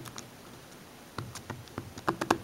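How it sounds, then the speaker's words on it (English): Keystrokes on a mini rollable Bluetooth keyboard: sparse soft taps at first, then a quicker cluster of sharper clicks near the end, close and fairly quiet. "show you some of the typing."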